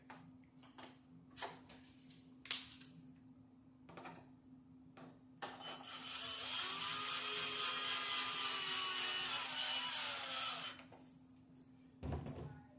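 A power driver spins screws into a Traxxas Hoss RC car body, a sustained whirring buzz lasting several seconds after a few scattered clicks and taps, close and moderately loud.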